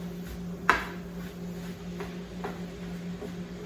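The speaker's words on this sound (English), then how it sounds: "Give it another stir and break this turkey up a little bit further and cook it some more" Turkey being stirred and broken up in a cooking pan, with one sharp utensil clack against the pan and a few softer scrapes over a steady low hum.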